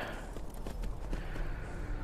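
Horse hooves clopping while riding in the video game Skyrim, a quiet, steady series of soft hoofbeats over a low ambient bed, with no talking.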